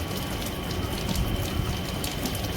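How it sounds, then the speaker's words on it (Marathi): Steady light rain falls in a dense, continuous hiss, fairly close and moderately loud, with no voices, in the Konkan region near Dapoli, India. "पाऊस वगैरे पण पडतो आहे पाऊस वगैरे थोडा थोडा आहे"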